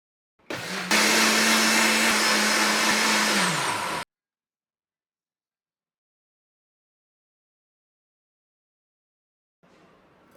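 An electric blender whirs loud and steady for about three seconds, blending mango with sugar and milk into a milkshake, then cuts off abruptly into silence before a faint noise returns at the very end.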